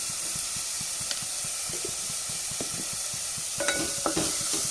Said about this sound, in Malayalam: രണ്ട് പച്ചമുളകും കൂടി എടുത്തിട്ടുണ്ട് നല്ലപോലെ ഇതൊന്ന് റോസ്റ്റ് ചെയ്തെടുക്കാം